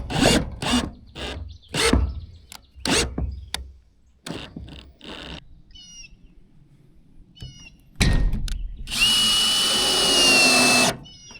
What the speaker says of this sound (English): I'll be installing these screws on the ribs